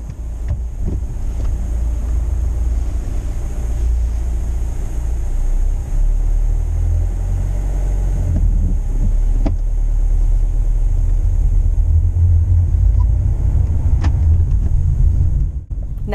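A manual car pulling away using the clutch, with a low engine rumble mixed with strong wind and road noise, steady and fairly loud from start to finish.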